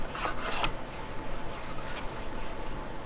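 A wooden hand plane with a wedge-set iron scrapes across a wooden workpiece, giving a close rasping stroke early on and lighter, fainter passes after it, with no talking.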